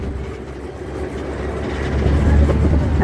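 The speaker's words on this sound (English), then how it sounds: "As the tram travels along Officers Road" A tram rolls along Officers Road on Angel Island, giving a steady low engine rumble with road noise that swells slightly louder toward the end, heard alone without talk.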